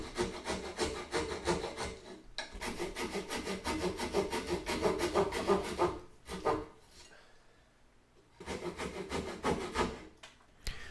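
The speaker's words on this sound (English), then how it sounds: "this particular saw has teeth that only cut on the push stroke" A Japanese-style pull or push hand saw cuts wood in steady rhythmic rasping strokes, close and fairly loud, with a brief pause before sawing resumes near the end.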